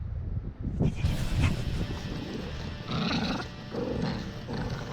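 Dog growls and grumbles during a tug play session, low rumbling bursts close by, with shuffling and tugging noises between them.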